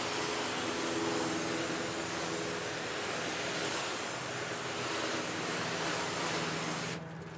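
Water sprays steadily onto a painted car test panel during a rinse after a ceramic polish and wax application, a loud, continuous hiss that holds for about seven seconds before dropping off abruptly near the end.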